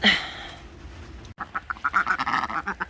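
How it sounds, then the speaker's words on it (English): Ducks quack in a steady, rapid series after a brief louder call, close and fairly loud outdoors on a rural Victorian property following a storm. "Oh, the ducks seem happy enough."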